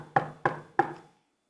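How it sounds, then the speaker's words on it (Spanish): Three sharp knocks on a wooden door, evenly spaced and close, each with a brief resonant decay, followed by silence. "Poco después, efectivamente llegó y llamó a la puerta."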